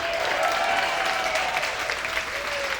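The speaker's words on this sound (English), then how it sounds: "Give yourselves a round of applause." A comedy club audience claps at the start of a stand-up set, a sustained, even roar of many hands close and loud, with a faint tonal whine running under it.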